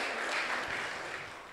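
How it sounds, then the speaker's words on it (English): Audience applause following the introduction of a long-serving Oakland mayor at a civic talk, a steady wash of many hands clapping at moderate distance, fairly even and slowly fading over the short stretch. "So give these guys a round of applause."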